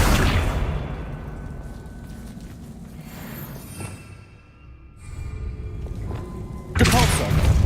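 Accio spell cast in the video game Hogwarts Legacy, a loud whooshing magical burst with low thuds, followed by a rumbling pull and a second sharp blast near the end.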